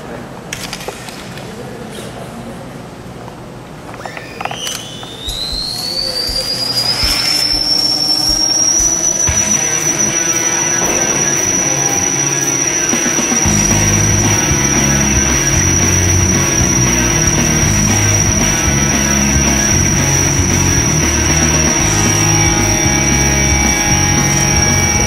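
A 3D-printed robotic samara monocopter spinning up into flight, starting with scattered clatter and then a rising whine that settles into a loud, steady high-pitched drone with a low hum underneath, continuous to the end.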